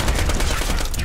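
Rapid mortar fire in Borderlands 2 pounds out as a dense, continuous burst of booming shots and explosions, loud and close, filling the whole moment without pause.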